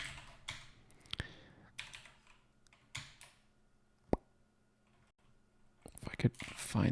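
Typing on a computer keyboard during a coding session: scattered clicks and keystrokes in uneven bursts, fairly faint, with a person talking quietly around them.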